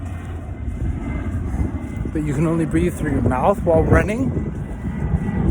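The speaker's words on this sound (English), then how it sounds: "Sorry about the plane." An airplane passes overhead outdoors, a broad steady roar that swells and fades across the clip, heard beneath a person talking close by.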